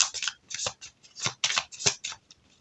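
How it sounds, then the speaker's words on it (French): A tarot deck is split in two by hand, giving a run of crisp, papery card rustles and flicks in uneven bursts, close and fairly quiet with no talking. "il faut diviser le jeu en deux"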